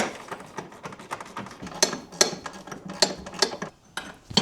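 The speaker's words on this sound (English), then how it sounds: "grab your ratchet and start tightening them up" Metallic ratcheting clicks and clinks come close and fairly loud as a hand ratchet tightens bolts on a boat trim ring during a Trim x Stage 1 install, in short irregular bursts.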